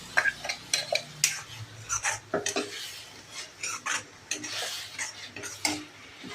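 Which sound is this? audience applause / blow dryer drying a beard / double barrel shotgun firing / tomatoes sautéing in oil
tomatoes sautéing in oil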